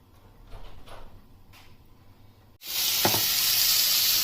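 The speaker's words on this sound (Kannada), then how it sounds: "ಸಾಸಿವೆ ಹಾಕಿ ಸಾಸಿವೆ ಚಿಟ್ಗುಟ್ಟೋವರೆಗೂ" Mustard seeds hit hot oil and erupt into a sudden loud, continuous spluttering sizzle, close and steady, after a few seconds of quieter kitchen handling sounds.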